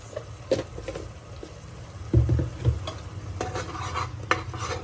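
Ginger-garlic paste masala being roasted in a pan for Maharashtrian mutton rasa, with steady sizzling, stirring scrapes and soft clinks close up, loudest in a burst of spoon strokes midway.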